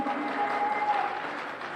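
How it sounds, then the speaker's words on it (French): A crowd at a festive recreational gathering in Côte d'Ivoire applauds a visiting delegation, a continuous wash of clapping at moderate distance with a brief tonal whistle-like note riding over it. "Est-ce qu'il peut s'applaudir?"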